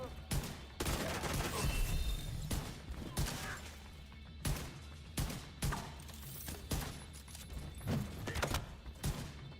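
Rapid bursts of gunfire from The Division 2 video game, a series of sharp shots and volleys spread across the span, with talk faintly underneath between bursts.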